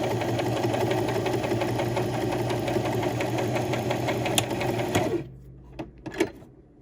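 A sewing machine runs steadily to wind a bobbin, a continuous close mechanical whir with rhythmic buzzing that stops abruptly near the end, followed by a few soft clicks.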